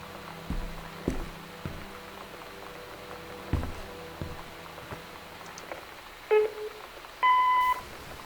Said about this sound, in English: Does it sound like a phone?